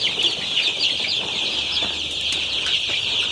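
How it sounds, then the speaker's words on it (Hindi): Double FG desi crossbreed chicks from a hatchery, feeding on starter feed, keep up a dense, steady chorus of shrill peeping with a few louder chirps and no pauses. "ये डबल FG का चिक्स है"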